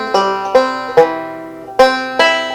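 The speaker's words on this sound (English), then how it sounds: "There's another lick that revolves around a descending pattern" Banjo picks a Scruggs-style low-position C descending lick, five bright plucked notes ringing out in a quick, uneven rhythm, close and alone.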